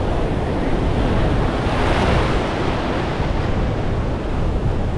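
Sea waves surge onto a beach at Cabo Frio during a southwest wind, a loud, continuous roar of breaking surf mixed with heavy wind buffeting the microphone, with no voices.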